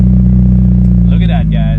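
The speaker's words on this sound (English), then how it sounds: "Fuel pump is back in. Let's see if this thing starts." A Mitsubishi Evo 8 engine, just back from a fuel pump repair, runs with a loud, steady low rumble close by while a person talks over it.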